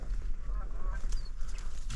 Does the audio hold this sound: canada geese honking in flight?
yes